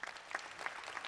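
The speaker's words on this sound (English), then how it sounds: "Stephanie is applauding" Audience applause at an agency state-of-the-agency event, a steady dense patter of clapping hands held at an even level throughout, with no talking over it.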